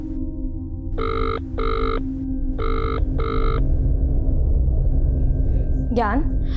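An unanswered telephone rings in a domestic drama, four evenly spaced electronic ring bursts in two pairs over a steady hum, loud and close, followed by a brief voice at the end.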